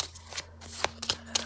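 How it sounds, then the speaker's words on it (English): Tarot cards, only a few of them, are shuffled in short bursts of soft riffling and sliding, close and quiet, with small pauses between the strokes and no talking. "It's very hard to shuffle just a few cards."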